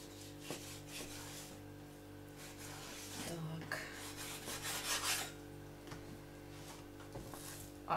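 A knife cuts through raw pork being trimmed for chops, rasping and rubbing softly against a board in repeated strokes. The sound is faint and close.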